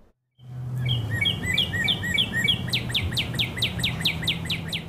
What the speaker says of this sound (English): Hearing a lot of cardinals in my yard, robins, the sparrows are out.